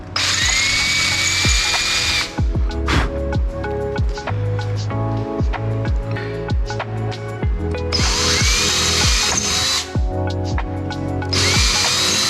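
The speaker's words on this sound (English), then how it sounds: "So that's the drill we're gonna be using, and we'll just simply drill it out." A power drill whines at high speed in several bursts, with a 1/2-inch bit drilling out corroded metal on a Hobie 16 catamaran, with grinding, clattering pauses between bursts.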